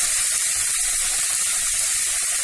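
Chopped vegetables sauté in a hot pan for vegetable bonda, giving a steady close sizzle and hiss with small crackling dips and no talk.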